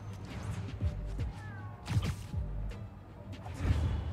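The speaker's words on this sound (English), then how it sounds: "Yes, Spider Cat, I hear you." Spider Cat meows in the video game Spider-Man: Miles Morales. Short, faint meows come among game whooshes, thumps and swishes, with a low rumbling background throughout.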